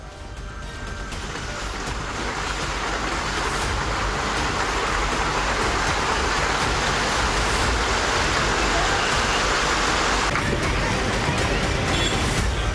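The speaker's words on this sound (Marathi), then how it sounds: "रत्नागिरीत मुसळधार पावसाचा फटका बसला।" Heavy monsoon rain pours down in Ratnagiri, a dense, loud, unbroken hiss of downpour that holds steady throughout.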